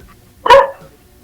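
A single sharp dog bark rings out close and loud, standing alone against a quiet background with no talk.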